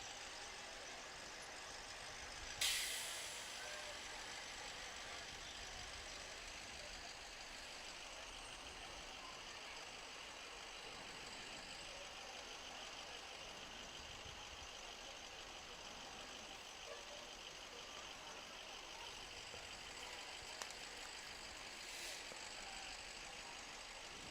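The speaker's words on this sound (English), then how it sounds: "Here comes Harlan Fire Department's first of the evening." Harlan Fire Department trucks idle in an evening Christmas parade, a faint low diesel rumble held steady throughout, with a brief sharp hiss early on and a few small clanks.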